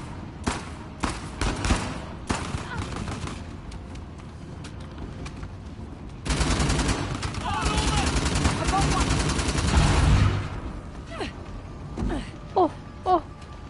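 Gunfire erupts in Uncharted: The Lost Legacy, with bursts of shots scattered through a noisy combat mix, denser and louder in the middle stretch, while a voice talks over parts of it.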